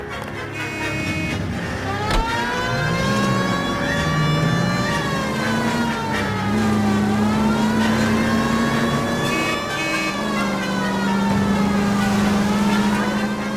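A car engine in the video game L.A. Noire revs and rises in pitch as it accelerates, mixed with a wailing siren, loud and steady throughout.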